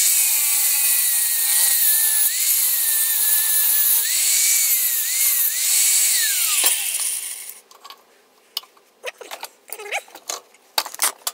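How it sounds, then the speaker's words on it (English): A hacksaw cuts through the centre of a metal shaft clamped in a vise, giving a steady, close, continuous rasping stroke sound that stops partway, followed by scattered clicks and handling noises. "the last thing I need to do is to cut through the centre of the shaft"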